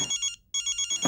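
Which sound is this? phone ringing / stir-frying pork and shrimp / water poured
phone ringing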